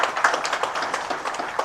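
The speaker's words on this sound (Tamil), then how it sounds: "நல்ல அரங்கம் நிறைந்த கைத்தட்டல் தரலாம் அவருடைய தமிழ் பற்றி" Applause from an audience filling a hall, dense steady clapping heard close and continuous with no speech over it.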